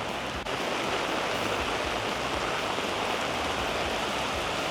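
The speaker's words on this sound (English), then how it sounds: "some pretty fierce rain now." Fierce tropical downpour in Penang, Malaysia, a constant roaring hiss of heavy rain drumming on surfaces close by, steady throughout with no speech.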